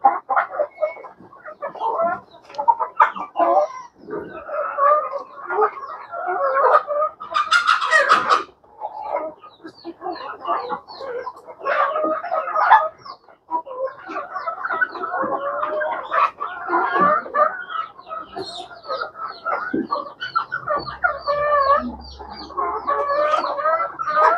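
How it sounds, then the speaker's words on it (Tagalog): Chickens cluck and chatter continuously nearby while eating on a farm, a busy flock with overlapping soft calls and occasional sharper squawks. "Yung manok guys, so kumakain naman."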